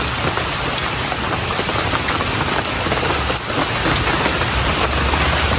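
Heavy, steady rain pours down continuously as a dense, loud wash of noise close by, with no voices.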